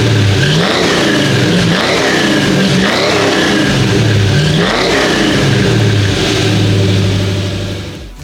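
Ford Mustang with 1 3/8 Patriot shorty headers, a catless 2.5-inch BBK H-pipe and Flowmaster mufflers revving hard and repeatedly, the loud exhaust note rising and falling in several pulls over a steady idle rumble.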